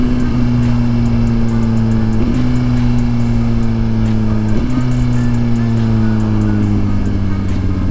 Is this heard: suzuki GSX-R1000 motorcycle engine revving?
yes